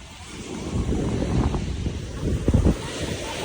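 Ocean surf washing ashore at a crowded Miami beach, a steady broadband rush of water with heavy wind buffeting the microphone and a slightly louder wave surge near the end; no voices.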